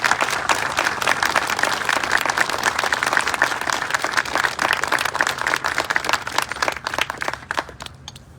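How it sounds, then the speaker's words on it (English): An audience applauds at a ribbon-cutting ceremony for new apartments at 100 Oak Avenue in Aurora, Illinois, steady dense clapping that holds for several seconds before thinning out and fading near the end. "Let's give her a round of applause."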